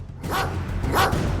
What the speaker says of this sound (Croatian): Dastine, odmah uhvati tog psa i stavi ga u kavez.